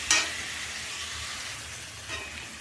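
Khichdi of mung dal and rice frying in a pot while being stirred, a soft, even sizzle with a sharp scrape of the spoon at the start and another faint scrape near the end.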